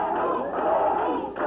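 Wrestling arena crowd at a USWA show, a dense, steady roar of many voices filling the clip, loud and continuous with a brief dip near the middle.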